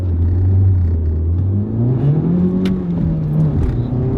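A sports car accelerates hard, its engine rising in a strong, loud whirring rumble as revs climb and shift, close and continuous with no talking.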